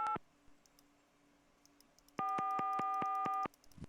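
Telephone busy signal in the Gabriel Knight adventure game: a short tone burst at the start, then a quiet pause with a faint hum, then a loud, steady pulsing busy tone for over a second before cutting off.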